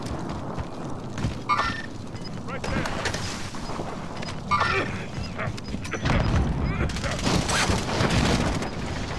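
Sniper gunfire in a first-person shooter game, with rifle shots cracking into the area around a TV station rooftop. Sharp reports and rumbling blasts keep coming under urgent voices shouting back and forth.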